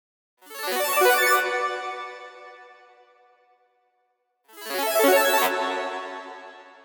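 Bright arpeggiated synth played through the Polyverse I Wish plugin with its filter switched off, heard as two loud sustained harmonically rich bursts with shimmering highs, each fading out, separated by a short silence.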